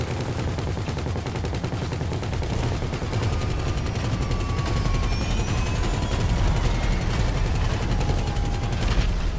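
Sustained rapid-fire minigun bursts from the video game GTA V, a loud continuous roar of gunfire that runs the whole stretch with only slight swells, no speech over it.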